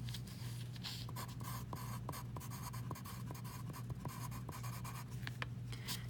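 A pen scratches across paper up close in a series of short strokes, sketching out the details of a potassium element entry over a low steady background hum.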